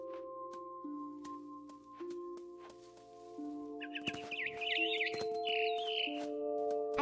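In the video game What Remains of Edith Finch, a mama bird chirps in short, high tweets and trills over sustained music tones and soft clicks, moderately loud in the second half.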